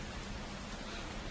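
A rain storm sound effect plays as a steady, soft wash of broadband hiss, even and unbroken throughout, with no voices over it.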